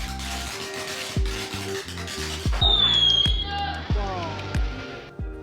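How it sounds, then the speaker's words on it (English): Fireworks explode on Chinese New Year's Eve just after sunset in a Dai community in Yunnan. Repeated sharp, booming thumps come at irregular intervals, with a high whistling streak midway and ringing decays between the bangs. "The sun just went down, and now the explosions begin."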